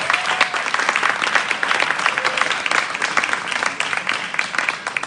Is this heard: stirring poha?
no